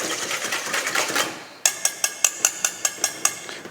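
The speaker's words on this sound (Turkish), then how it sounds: "Şöyle hızlıca yumurta sarısı ve kremayı karıştıralım" Egg yolk and cream whisked quickly in a bowl, a rapid regular train of sharp clicking taps from the whisk striking the bowl, about ten evenly spaced strokes, close and clear, following a brief stretch of softer mixing noise.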